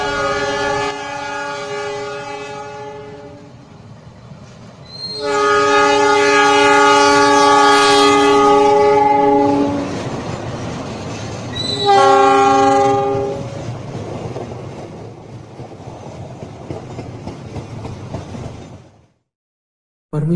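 A loud train horn sounds in long blasts, two sustained and one shorter, over the rumbling clatter of a moving train, then the noise cuts off.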